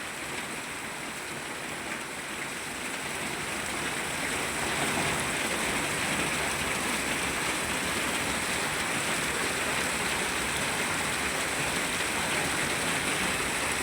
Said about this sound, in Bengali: এত পরিমাণ বৃষ্টি নামতাছে।